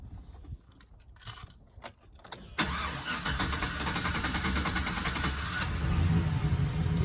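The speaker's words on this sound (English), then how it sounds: "now I'll go crank it, check and see if the light's still on" A pickup truck engine being cranked: rough starter grinding and faint mechanical clatter give way to the engine catching and settling into a steady, loud idle, with no talking.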